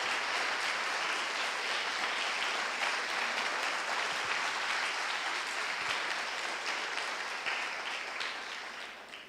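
A church congregation applauds during a priest's homily: dense, even clapping from many people, moderately distant and steady, easing off slightly at the end.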